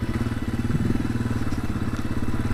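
A motorcycle engine rumbles steadily up close while riding a snowy trail, a continuous throbbing drone with light knocks and no talk.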